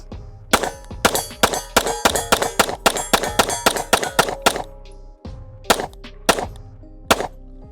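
Metallic clangs from pistol handling, with a rapid run of about twenty sharp ringing strikes, then a brief pause and four more spaced hits. The clip is close and loud, with no talk.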